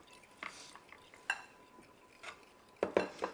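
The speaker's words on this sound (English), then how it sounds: "So you're whisking the egg together with the vanilla." Whisking egg with vanilla in a bowl, soft scattered clinks and light tapping of a whisk against the bowl, a few sharper knocks near the end, fairly quiet with no talking.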